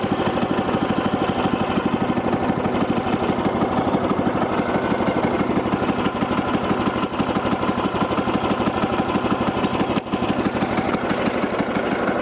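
A sawmill engine idles during the milling of an oak log, a loud, steady mechanical drone with a fast even pulse running unbroken throughout, no voices.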